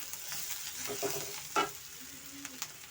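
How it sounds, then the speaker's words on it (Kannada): Onions frying in a pan with ginger garlic paste just added, a soft steady sizzle with a few light stirring scrapes and one brief knock, faint and close, no voices. "ಇವಾಗ ಇದಕ್ಕೆ ನಾನು ಶುಂಠಿ ಬೆಳ್ಳುಳ್ಳಿ ಪೇಸ್ಟು ಸೇರಿಸ್ತಾ ಇದ್ದೀನಿ"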